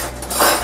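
Metal kitchen utensils clink and rattle together briefly as they are checked and sorted during housekeeping cleanup, close and bright, with no voices.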